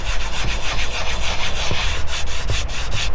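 Rag rubbing sticker residue off car interior plastic on a Camaro, Mustang or Challenger, a close, continuous scratchy swishing with quick rhythmic back-and-forth strokes.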